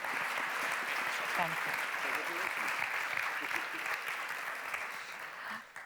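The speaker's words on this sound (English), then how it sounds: "a big round of applause" An audience applauds at the closing session of a conference, with sustained, even clapping that fades slightly toward the end. A voice briefly speaks over it.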